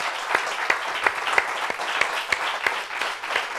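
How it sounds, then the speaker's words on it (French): Studio audience applauding at a French-language talk show, steady dense clapping with sharp individual claps standing out, sustained and fairly loud throughout. "Applaudissements, applaudissements."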